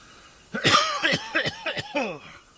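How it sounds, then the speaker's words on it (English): A short run of harsh coughs, about six in quick succession, close and fairly loud, after a moment of quiet. "Cough, cough, cough. Excusez-moi."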